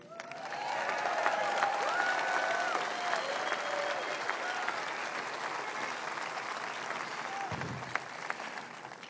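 A large crowd at a Trump rally in Butler applauds steadily for several seconds, a dense wash of clapping with scattered cheers and whistles, slowly easing toward the end.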